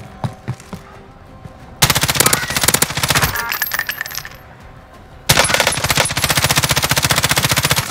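Gunfire in the video game Warzone on the Caldera map during a quads match, with scattered shots followed by loud, rapid automatic bursts up close, a pause, then another sustained burst.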